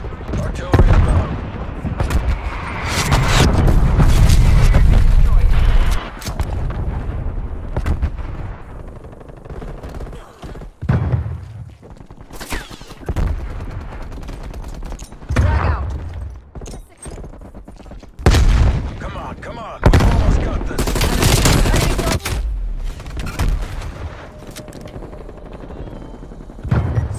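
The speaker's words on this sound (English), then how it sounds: "Hostile artillery targeting active. Throwing grenade. Artillery above." Artillery barrages, machine-gun bursts and explosions fill a combat video game, loud clustered blasts and rattling gunfire in irregular waves, with in-game voice callouts heard between the bursts.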